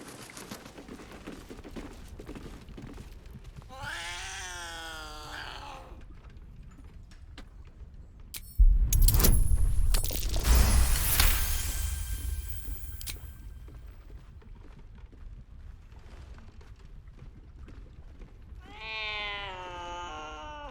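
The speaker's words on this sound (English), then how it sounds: "It's a cat." A cat in the video game Baldur's Gate 3 gives a short run of clear meows, then a quieter stretch broken by a loud burst of game noise, and finally another meow near the end.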